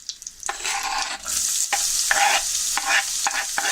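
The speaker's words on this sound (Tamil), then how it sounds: "வெங்காயம் சேர்த்துட்டு நல்லா வதக்குங்க, பச்சை வாசனை போகிற வரைக்கும்." Chopped onions stir-fried in hot oil with curry leaves, a loud steady sizzle broken by repeated scraping stirs of the spatula, close up with no talking.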